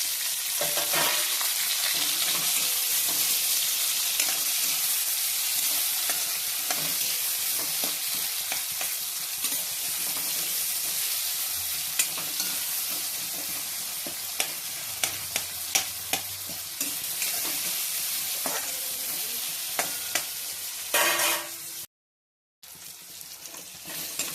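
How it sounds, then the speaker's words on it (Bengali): Garlic, onion and tomato sizzle loudly in hot oil, with the scrape of stirring throughout, then a brief silence near the end before the sizzling resumes. "পেঁয়াজ দিলাম, আর দিয়ে দিলাম টমেটোটা একসাথে ভাজবো"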